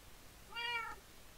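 A Minecraft cat gives a single short, clear meow close by, rising and falling against near silence with no speech.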